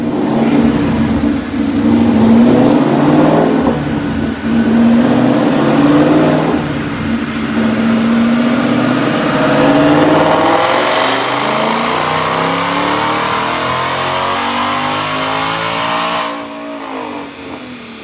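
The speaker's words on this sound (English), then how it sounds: "Check out this dyno pull." A supercharged 2019 Ford Mustang GT with a Roush kit, manual transmission and stock exhaust manifolds roars on a dyno, its engine climbing in pitch through a long, loud pull before dropping off near the end.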